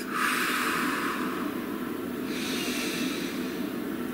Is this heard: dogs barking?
no